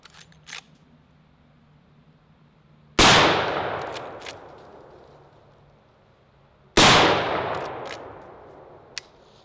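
Two loud, close gunshots from a 45-70 lever-action rifle, several seconds apart, each a sharp crack trailing into a long echoing decay, with faint handling clicks around them.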